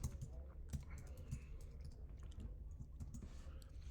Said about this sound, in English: So equals, we're going to type in concatenate.